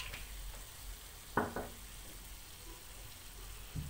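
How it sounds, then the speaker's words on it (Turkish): Olive oil poured into a pan where sheep tail fat is already frying, with a faint steady sizzle and a couple of short clattering knocks. "Şimdi zeytinyağımı döküyorum."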